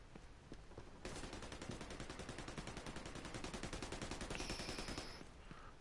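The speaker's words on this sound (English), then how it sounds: "Oh shit, we're in a crossfire." Sustained automatic gunfire from a crossfire in The Division 2, a long, steady rattle of rapid shots with overlapping bursts from several shooters, loud and continuous, ending with a brief ringing tone.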